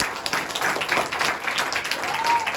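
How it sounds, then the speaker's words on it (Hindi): A group claps together in a lively, uneven burst, with scattered voices mixed into the applause. "आइए उनके लिए ताली बजाएंगे।"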